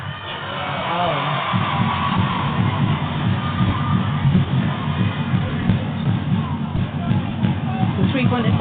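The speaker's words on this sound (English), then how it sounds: "the crowd are going to help too, so hopefully they keep up the sound" A crowd at a 2022 varsity men's basketball game keeps up a steady roar and scattered cheering throughout, heard with commentators talking over it.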